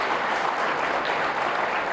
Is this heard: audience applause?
yes